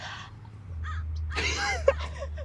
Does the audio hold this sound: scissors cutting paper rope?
no